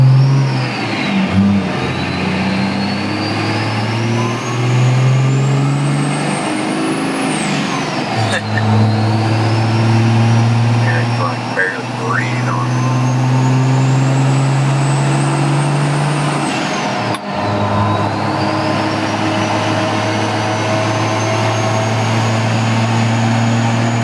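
A 1000hp Cummins diesel in a white mega-cab pickup with a 6-speed and an O-ringed head pulls hard through the gears. Its loud engine note climbs steadily in pitch, dips sharply at each shift, then climbs again, with turbo whistle riding on top.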